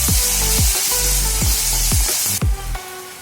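Onion, garlic and ginger paste frying together in a pan for beef tripe curry gives a steady hiss, cut by rhythmic metallic scraping strokes about every half second, loud and close.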